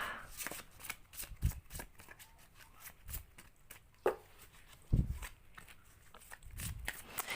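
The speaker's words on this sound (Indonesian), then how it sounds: "Kita shuffle sampai kita benar-benar mendapatkan kartu yang energinya sesuai sama kita." Tarot cards shuffle by hand in a close, dry riffle of rapid papery flicks and taps, repeated in uneven bursts with a few louder thumps.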